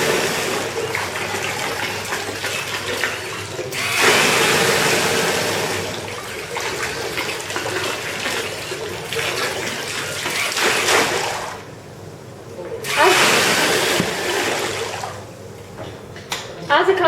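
Water splashes and pours steadily in a small model waterfall built as an embedded systems project, a continuous rushing hiss with a couple of louder surges and brief drops.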